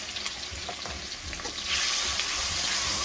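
Ginger, cumin and onion paste hits a pan of frying onions. A steady sizzle crackles at first, then swells into a louder, brighter hiss partway through, with no voices.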